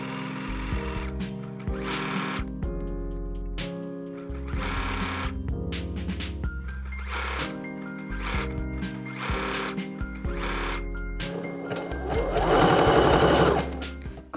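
Domestic sewing machine stitching elastic onto a swimsuit, in short rhythmic bursts of rapid mechanical stitching separated by brief pauses, close and clear, with no talking.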